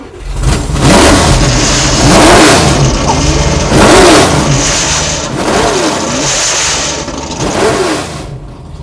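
A car from a TV chef's collection revs hard and loud up close, its engine roaring in repeated swells and settling between bursts.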